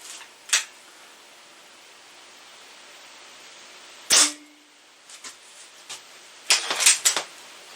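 A spring air rifle fires JSB pellets through a chronograph outdoors. Several sharp, short cracks ring out against quiet background hiss, with one louder report midway and a tight cluster of snaps near the end.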